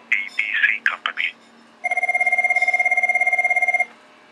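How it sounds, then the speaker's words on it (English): A PBX office phone system plays a recorded greeting over a speakerphone, then a telephone ring sounds: a steady warbling electronic ring lasting about two seconds after the voice stops. "then the phone rang"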